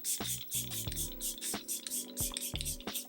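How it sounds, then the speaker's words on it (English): Several short bursts of Milk Hydro Grip setting spray misted onto a face, each hiss sharp and close, coming in an uneven rhythm of quick pumps with brief gaps between them. "Set my face with the Milk Hydro Grip spray."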